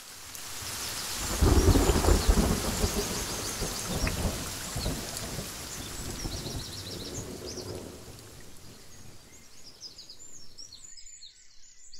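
Thunder rolls heavily over a steady downpour of rain, with the loudest rumble early before fading back into continuous rainfall. A few bird calls chirp faintly in the background near the end.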